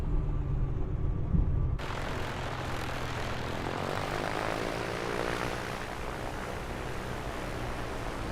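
A Piper Comanche 250 taxiing toward a gravel taxiway in Microsoft Flight Simulator 2024 gives a steady propeller-engine drone. A heavier low rumble in the first two seconds shifts to a smoother, even hum that continues throughout.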